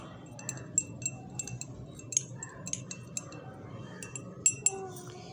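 A spoon stirs a home remedy inside a glass, making a quick string of bright, light clinks against the sides over a low steady murmur, close and distinct, with no talking.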